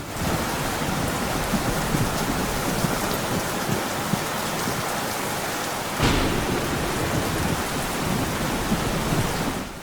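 Steady heavy rain pours throughout, with low thunder rumbling beneath it and a sharper crack about two-thirds through.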